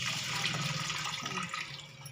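Water pouring steadily into a cooking pot on the stove for a lake-fish (jalebi fish) curry, a continuous splashing stream heard up close and alone for about two seconds.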